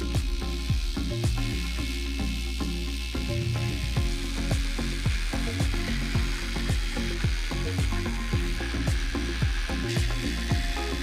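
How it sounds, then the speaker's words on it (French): Harsh mechanical grinding with irregular clicks and snaps as a drill-powered shredder chews through 3D-printer filament, loud and continuous. "Il suffit de fixer votre perceuse, de bloquer la gâchette de la perceuse"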